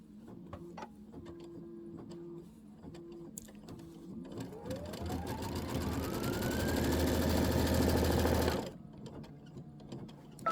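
Sewing machine stitching gingham quilt pieces, quiet clicks and pauses before the motor spins up into a rising, steady whirring run of stitches for several seconds, then stops abruptly, close and alone.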